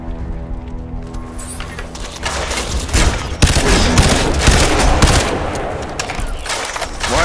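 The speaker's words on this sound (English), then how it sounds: "Why am I firing with this fucking gun?" Heavy automatic gunfire in Crysis 2, with loud rapid bursts and booms piling up densely after a quieter mechanical hum at the start.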